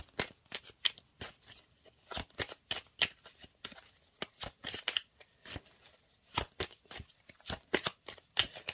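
Tarot cards being shuffled: a run of quick, crisp riffling snaps and soft papery flutters in uneven bursts, close and fairly quiet, with no voices.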